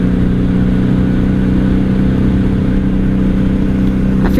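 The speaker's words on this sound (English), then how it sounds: "The Vanson Hines pipes do sound amazing" A 1997 Honda Magna 750 V4 motorcycle running through Vance & Hines exhaust pipes, a loud, steady close-up engine drone holding an even pitch throughout, with no talking.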